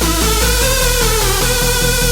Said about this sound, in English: mimic this chord structure here from the pluck with a bass line